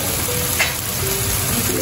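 Ampalaya (bitter gourd) frying in a pan, an even close-up sizzle of hissing oil with a faint crackle, no voices.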